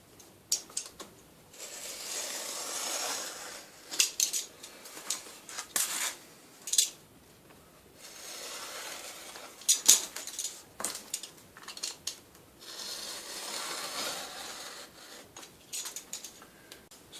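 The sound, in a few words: knife trimming sandpaper overhang along sanding board edge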